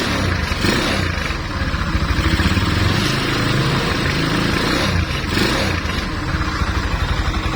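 A 225cc motorcycle engine runs steadily up close, a rough, even chugging idle with a faint rattle and no voices.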